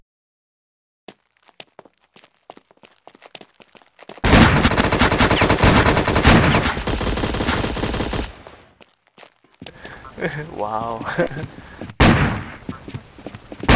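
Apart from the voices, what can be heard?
shotgun fire in video game War Inc Battle Zone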